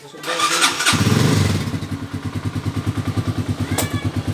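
A Skygo King 150 motorcycle engine cranks and catches, then settles into a steady, pulsing idle close by, with a brief human voice in the opening moments.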